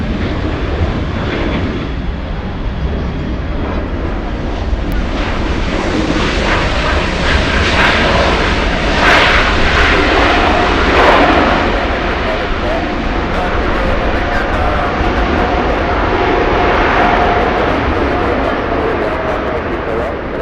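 A Lufthansa airliner flies downwind near LAX, its engines giving a continuous loud rumbling roar that swells gently and lingers, while radio chatter and voices talk over it.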